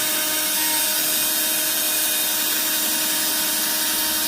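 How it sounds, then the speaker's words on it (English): A power drill whines steadily and loudly while drilling into the floor of a 1977 Camaro, a continuous high-pitched grinding buzz with no talking. "And then drill straight on down."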